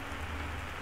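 Steady rain pours down in the horror game You're not Alone in these Woods, a dense, even hiss that holds without a break through a short stretch.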